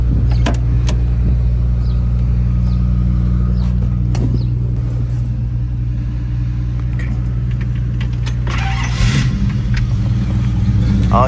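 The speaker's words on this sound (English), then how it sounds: "let's fire it up, let you guys hear it run." A 1969 AMC AMX with a Go Pack 390 V8 idling steadily nearby, a deep even rumble throughout with a small blip of revving near the end.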